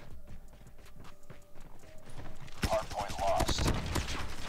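PP19 submachine gun hip-fire in a fast-paced shooter game: bursts of rapid, punchy shots that grow louder and denser toward the end, layered with game sounds and other noise.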